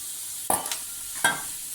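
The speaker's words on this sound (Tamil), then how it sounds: "மஷ்ரூமை நறுக்கி வச்சுருக்க மஷ்ரூமை சேர்த்துக்கலாம்" Mushrooms for mushroom dosa sizzle steadily in a hot pan, close up, broken twice by the scrape of a spoon stirring.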